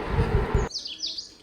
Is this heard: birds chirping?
yes